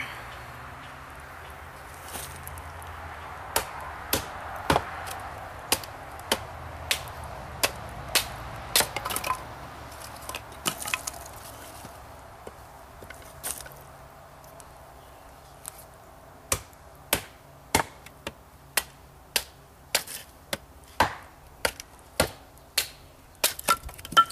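A Becker BK-16 short drop point knife chops wood in a steady run of sharp, dry strikes. They come sparse at first and grow quicker and louder toward the end, with no voices.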